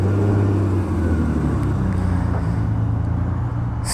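A 2022 KTM 890 Duke GP naked motorcycle engine fires up and runs with a loud, steady close-up rumble throughout, with no talking.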